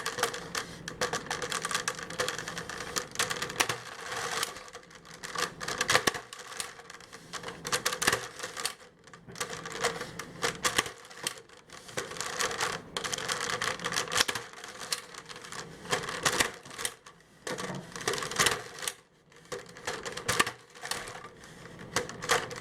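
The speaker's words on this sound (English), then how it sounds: "And then go through and staple each cup." A stapler is repeatedly punched through paper cups for a DIY craft project, making a long run of sharp, close clacks and crunches in an uneven rhythm with brief pauses between bursts.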